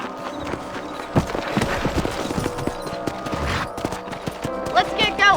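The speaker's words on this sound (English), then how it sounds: "Let's get back on the horses and see what else is going on." Rhythmic clip-clop of horse hooves galloping in Red Dead Redemption, with a horse snorting and whinnying near the end over a low game soundscape.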